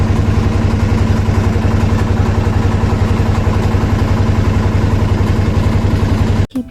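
A trawler boat's engine runs steadily and close by with a loud, even low throb throughout, cutting off abruptly at the very end.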